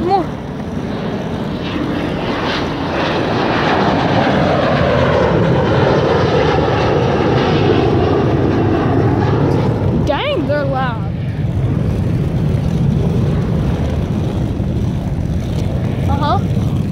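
A United airliner flies overhead with a loud, sustained jet roar that swells and lingers, while people talk briefly over it.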